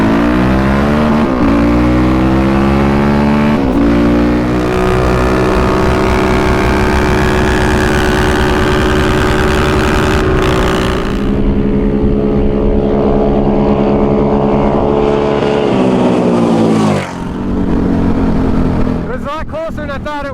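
A Yamaha Raptor 700 and a Can-Am Renegade 1000 ATV race from a rolling start, loud engines revving hard and climbing through gears up close with wind buffeting, then the engine note drops sharply near the end.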